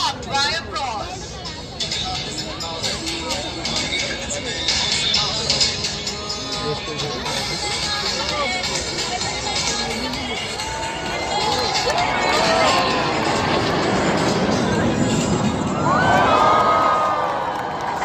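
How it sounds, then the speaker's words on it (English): Surya Kiran aerobatic jets crossing each other at a large airshow, a rising and falling roar passing overhead near the end, heard beneath continuous crowd cheering and chatter. "Get set to witness these aircraft crossing each other right in front of you, presenting the barbed wire cross."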